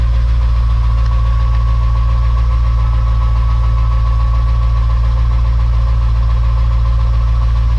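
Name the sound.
truck engine idling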